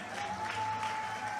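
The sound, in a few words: crowd clapping at a political rally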